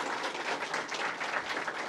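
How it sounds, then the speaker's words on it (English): An audience applauds for elected officials at a New York literacy event, with a steady wash of clapping that fills the short moment, fairly soft and without voices over it. "Let's give a round of applause for our elected officials."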